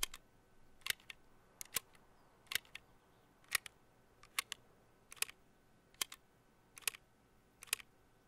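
Shotgun shells being reloaded one by one in Escape from Tarkov, sounding as a series of crisp, evenly spaced mechanical clicks over a quiet background.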